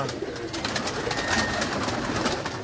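Pigeons kept by a breeder call nearby, soft repeated cooing over a busy bird-filled background with faint rustling.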